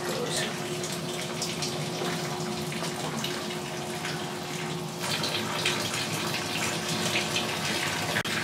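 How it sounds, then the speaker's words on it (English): Steady rushing water from an opened valve runs into an aquarium refugium tank throughout, a continuous broadband flow, with a faint hum underneath and slight shifts in intensity. "Any second, water should start coming out of there."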